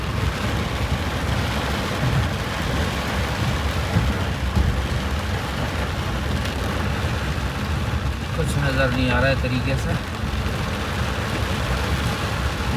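Sudden rain in dangerous stormy weather, a steady broadband hiss of downpour with low rumble throughout, while someone talks over it and a brief tonal noise cuts in near the end.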